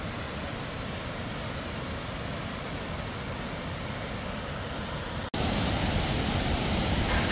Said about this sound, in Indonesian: Tengok tu. Air terjun tu.